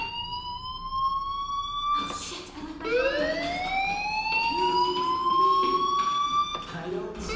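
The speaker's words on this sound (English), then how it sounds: "do you hear that fire alarm?" A video game fire alarm: a rising and falling electronic tone repeats over a steady background hum, with brief bursts of noise and faint voices in between, in Life is Strange.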